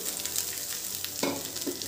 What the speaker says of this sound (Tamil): இந்த சாதத்தை அதில் போட்டுடலாம்.